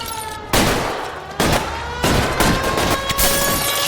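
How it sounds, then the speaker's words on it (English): Gunfire in the L.A. Noire video game: loud, dense shots in heavy bursts with sharp onsets about every second, over a constant roar of game noise and no speech. "Shots fired! Shots fired!"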